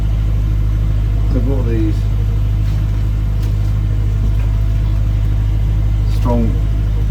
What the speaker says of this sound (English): You can probably hear the engine in the back there